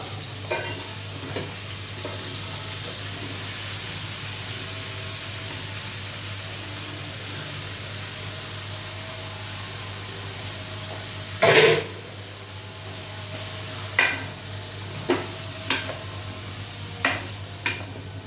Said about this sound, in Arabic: بنقلبها شويه يا حبايبي لما تتشوح شويه وعليها البصل